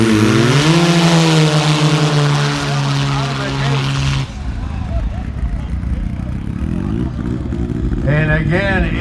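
Racing snowmobiles scream in rising engine tones as they launch down a drag-race lane. The howl cuts off abruptly midway and leaves rough engine noise and a commentator talking, then another rising whine near the end.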